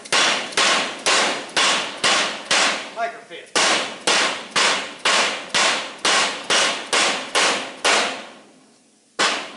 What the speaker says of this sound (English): Look at this hammer work.